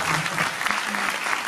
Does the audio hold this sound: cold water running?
no